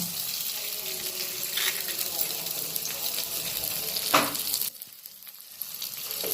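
An egg frying in a little oil in a pan beside spices for fried rice gives a close, continuous sizzle with occasional sharper crackles, easing briefly near the end before building again.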